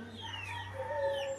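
Chickens cluck and crow in a farmyard, a steady layer of fowl calls over a low hum, fairly near and continuous.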